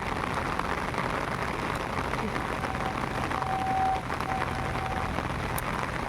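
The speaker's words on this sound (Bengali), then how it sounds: "আজকে সকাল থেকে প্রচুর বৃষ্টি শুরু হয়েছে" Steady, dense rain hiss fills the whole stretch, a constant wash of falling water with no voices.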